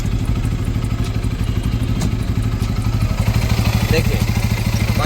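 A motorcycle engine running with the bike in gear during chain cleaning and lubing, a steady close chugging idle with a fast regular pulse and some light clatter throughout.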